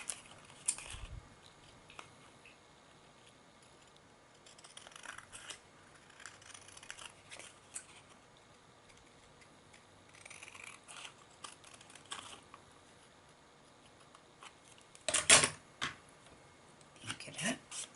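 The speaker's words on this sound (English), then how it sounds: "Let's trim off the card." Scissors trim through card for a herbarium specimen, a brief sharp snip near the end of a mostly quiet stretch with faint rustling handling noises earlier.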